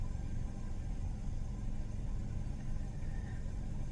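Cars idling in a slow traffic backup, a low steady engine rumble with faint road noise, continuous and moderately quiet.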